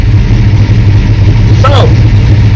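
A car engine idles with a steady low hum and slightly uneven throb, close and loud, while someone speaks briefly partway through.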